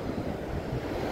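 Ocean surf breaks on the beach at Sine, Tulungagung, with a steady, loud rush of waves and wind buffeting the microphone, and no voices throughout.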